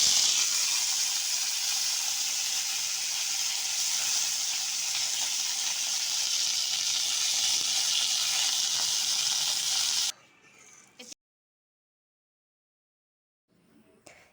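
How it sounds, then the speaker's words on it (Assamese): Curry leaves and cumin sizzle loudly in hot oil, a steady close frying hiss that stops abruptly, followed by brief clatter and near silence. "এতিয়া আমি ইয়াতে নৰসিংহ পাতকেইটা যে লৈছিলোঁ, সেই পাতকেইটা আমি ইয়াতে তেলতে দি দিম।"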